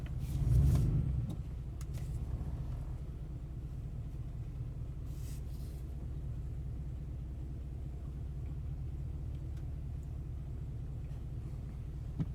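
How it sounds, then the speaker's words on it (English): Ford F150 truck with camshaft sensor circuit faults driving slowly around the shop, a low, steady, fairly faint engine rumble heard from inside the cab after a brief louder thump at the start. "let's take this truck for a quick spin"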